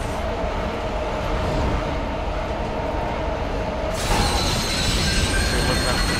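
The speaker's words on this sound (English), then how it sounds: "this train's crashing" A train crashes in the video game Dead Space 2 with a continuous loud metallic rumble and grinding wheel squeal. A harsh screeching surge comes in partway through and sustains, with no clear talk.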